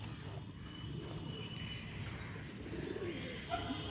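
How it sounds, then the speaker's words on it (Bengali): A pigeon coos softly outdoors in the morning after heavy rain, low gentle calls repeating amid faint chirps and light background ambience, with no talking. "ওই দেখো টিটি পায়রা"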